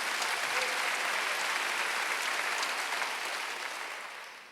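A church congregation at a Korean Sunday worship service claps together in a broad, even wash of hand claps, fairly distant and quiet, fading gradually over the last second.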